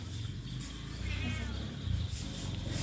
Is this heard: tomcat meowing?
yes